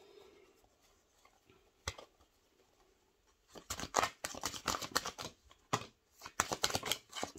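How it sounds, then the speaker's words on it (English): Tarot cards being shuffled by hand: a few faint clicks at first, then a close, crisp run of rapid papery flutters and snaps with brief breaks. "So I'm just going to go ahead and shuffle"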